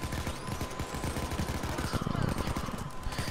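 Rapid gunfire rattles through a video game, dense bursts of shots and automatic fire layered with game effects, loud and continuous, and a voice is talking over it.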